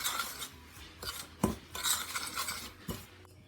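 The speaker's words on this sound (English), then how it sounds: "Give these a quick stir" A spoon stirs peach crisp filling with cinnamon, allspice and nutmeg in a bowl, making soft, close scraping and clinking sounds, with a few sharper taps against the bowl and no voices.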